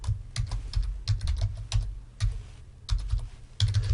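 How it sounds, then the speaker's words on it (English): Rapid keystrokes on a computer keyboard as a user ID and password are typed, in short clustered bursts separated by brief pauses, close and clear with a low hum underneath. "You type in your user ID, you type in your password,"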